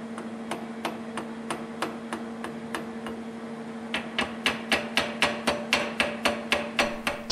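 Sharp metallic hammer strikes ring out on a fuller tool in a steady rhythm, about two per second, growing faster and louder partway through, over a faint constant hum. The metal is being shaped into a cross.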